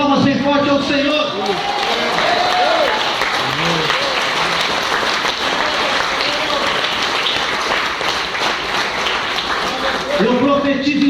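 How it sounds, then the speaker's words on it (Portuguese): Strong applause from a church congregation praising the Lord, dense clapping with cheering and crowd murmur, while a preacher's voice continues loudly over it at the start and end. "Levante a sua mão e dê uma salva de palmas bem forte ao Senhor"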